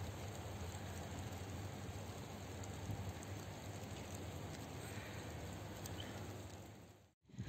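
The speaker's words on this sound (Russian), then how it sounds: "дождик идет" Steady rain falls outdoors during a shopping trip for home renovation supplies, a soft continuous patter and hiss that stays even throughout, with no talk.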